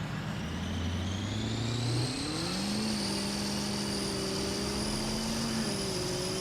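A truck's engine revving and pulling hard at a truck meet, a steady loud drone that rises in pitch as it accelerates, with no talk over it.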